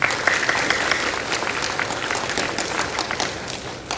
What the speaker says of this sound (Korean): 참여하신 것을 기념하고 축하하는 의미에서 오늘 또 박수 한번 치겠습니다.